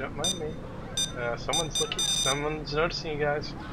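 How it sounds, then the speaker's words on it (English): Payday 2 heist alarm going off as a repeating electronic beeping tone in bursts, mixed with game sounds while players talk over it. "That's the alarm."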